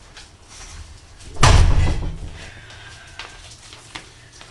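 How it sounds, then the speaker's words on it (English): A door shut firmly with a single loud thump and a short rattling decay, heard close by, with a brief spoken word and soft room noise around it. "I just want to close the door"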